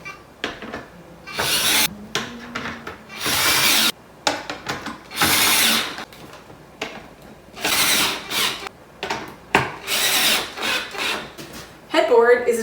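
A power drill drives screws and washers into the headboard of an upholstered queen-size platform bed frame: a series of short, loud whirring bursts separated by pauses and light handling noises.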